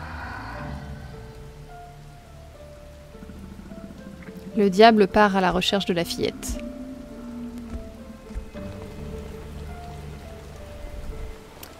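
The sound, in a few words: rain falling on a roof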